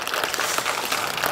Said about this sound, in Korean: 스님께 다시 한번 여러분 감사의 큰 박수 보내주십시오.